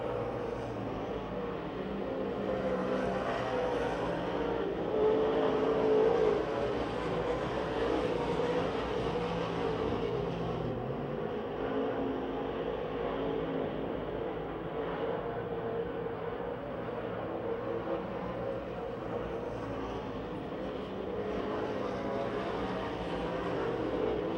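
Race cars on the oval at Pennsylvania Motor Speedway near Pittsburgh finishing the last laps of an 8-lap race, heard as a continuous distant engine roar that swells and fades, with no speech.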